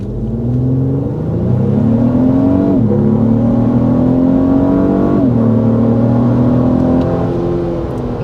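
A 2024 Lexus GX 550 twin-turbo SUV pulls away from a complete stop on flat ground, its engine note rising smoothly and dropping at each of two gear shifts in a loud, continuous in-cabin hum.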